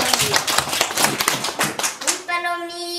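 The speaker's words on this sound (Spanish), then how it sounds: "un aplauso, un aplauso" Clapping from an audience at a Quechua community gathering, a dense patter of hands for about two seconds that gives way to a sustained tone, with some voices mixed in.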